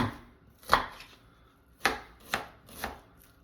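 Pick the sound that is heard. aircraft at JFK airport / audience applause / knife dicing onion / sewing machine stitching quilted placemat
knife dicing onion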